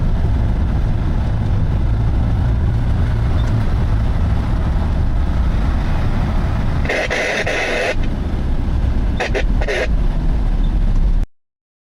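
A logging truck idles with a heavy, rumbling drone while its trailer is hoisted onto the back, broken by a few bursts of hissing air and clanking near the end.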